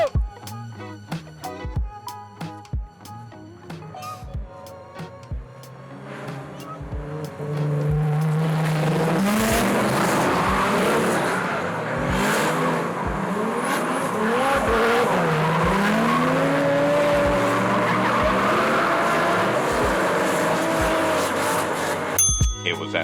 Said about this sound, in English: So all four cars are gonna do one spin each